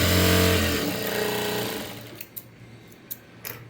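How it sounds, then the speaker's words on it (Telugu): A sewing machine stitches the front part of a garment in a close, steady motorized hum that slows and stops after about two seconds, followed by a few soft clicks and fabric handling. "నీట్గా పాదం ఇంచు డిఫరెన్స్ తోటి స్టిచ్ చేసుకుంటూ వచ్చేయాలి"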